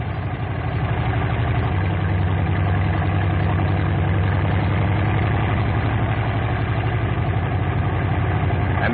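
Grumman TBF Avenger torpedo bomber engine idling, with a continuous deep, throbbing rumble that stays loud and steady throughout with no voices.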